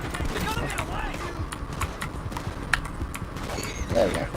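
A horse's hooves clip-clop and gallop through trees in Red Dead Redemption 2 Online, a steady rhythmic patter beneath someone talking over the game.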